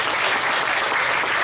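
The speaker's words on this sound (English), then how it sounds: "You can clap if you want to" Brief, steady burst of audience applause at a Q&A panel for the Superman Celebration, a dense, even wash of clapping with no talk over it.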